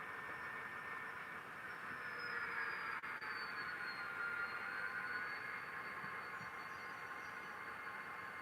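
A ScaleTrains SDL39 model locomotive, a tiny prototype weathered and distressed, runs steadily with a soft continuous mechanical whir and a faint drifting high whine over low rumble, with no talking.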